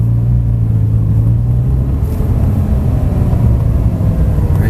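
An Audi R8 drives on a track with a loud, close, continuous engine rumble and a low, steady drone that holds throughout.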